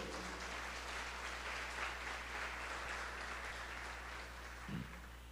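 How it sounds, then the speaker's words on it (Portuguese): A church congregation applauds, giving a steady, fairly distant wash of clapping over a constant low hum, with a brief louder thump near the end. "Pode aplaudir o Senhor?"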